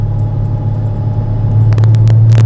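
A Porsche Boxster engine hums low and loud from inside the car on the road, a steady rumble with faint stutters and small clicks near the end as it misfires after a gear change.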